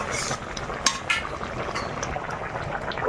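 A spoon stirs bitter gourd curry in a pan as a little cumin powder is mixed in, giving a steady soft scraping and bubbling with a few sharper clinks against the metal, close by and with no talking.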